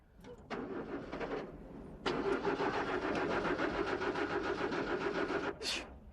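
A car engine that won't start because it is flooded cranks in two attempts: a short churning try, then a longer steady cranking whine that never catches, heard up close.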